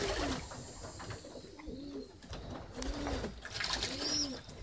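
Roller pigeons coo in repeated low, throaty phrases, about four soft calls spaced through the stretch, while they bathe in saline water on a hot day. Splashing and rustling stay in the background and no one speaks.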